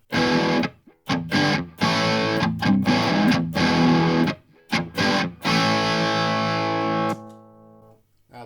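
Electric guitar heavily distorted through an MXR Custom Badass '78 Distortion pedal plays chords and short choppy phrases with brief gaps, loud and close, ending on a sustained ringing chord that cuts off.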